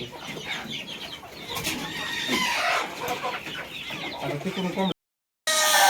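Large hens clucking together inside a compartment of a poultry shed, a busy overlapping chorus of calls, with a voice talking now and then and a brief gap near the end.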